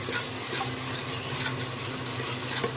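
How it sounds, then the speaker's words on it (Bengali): Cumin, cloves, cinnamon and black pepper frying in hot oil for a chicken curry, a steady close sizzle with stirring scrapes throughout and no talking. "ভালো করে মশলাটা আমি ভেজে নিলাম"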